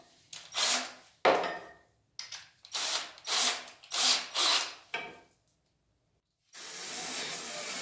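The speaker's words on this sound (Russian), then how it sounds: "поэтому будем сверлить им" Short repeated bursts of a power drill with a 10 mm bit boring holes for a reinforced boiler mount on a gypsum wall, each burst rising and cutting off, with pauses between, a silent gap, then a steadier whirring run at the end.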